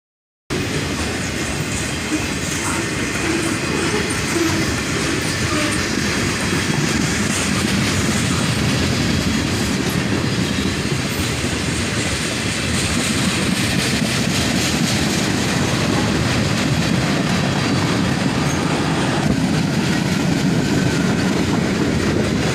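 A CSX freight train rolls steadily past at close range, railroad cars rumbling with a continuous rolling roar and rhythmic wheel clatter that holds loud and unbroken throughout.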